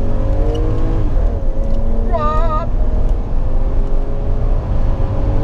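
A Toyota Crown Athlete estate's 1JZ turbo engine pulls in L gear toward 4,000 RPM, a loud interior drone rising and shifting pitch, with a brief high chirping whine partway through.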